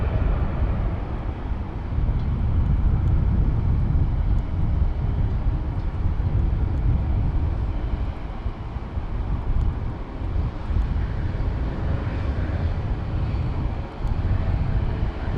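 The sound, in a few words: JetBlue airplane on the runway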